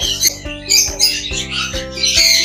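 An African grey parrot in a pet shop squawks in a series of loud, harsh, close bursts with shrill overtones, separated by short pauses.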